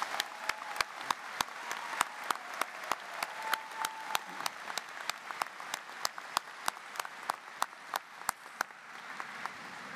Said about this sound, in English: How about a round of applause for all these good folks?